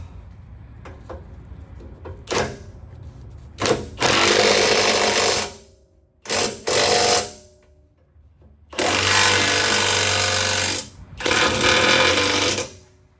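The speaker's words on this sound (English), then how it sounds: "So now I'm gonna tighten everything with the impact." Impact wrench tightening bolts on a Freightliner cabover truck in a shop, running in loud bursts of about one to two seconds each, a few short taps and then longer sustained runs, with quiet gaps between them.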